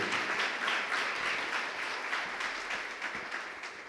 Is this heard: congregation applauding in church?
yes